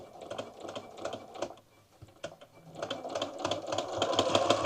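A sewing machine stitching a seam on a quilt block during chain piecing, quiet rapid needle chatter that runs in short spurts and then settles into a longer, steadier run.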